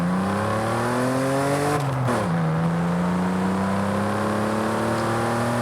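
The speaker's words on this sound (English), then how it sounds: "in Forza Horizon 5, have a listen to this car" A car engine from Forza Horizon 5 drones with a raspy, steady tone, rising in pitch, dipping sharply as if shifting or lifting off, then holding an even, loud note with no talk.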